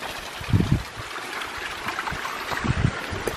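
A forest stream flows along a steep mountain trail, a steady moderate wash of water with a few heavier splashes or footfall thumps nearby and no talk.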